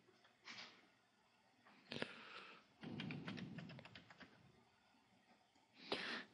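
Someone types a password on a computer keyboard in short bursts of quick, close keystrokes separated by brief pauses, with a few sharper isolated clacks.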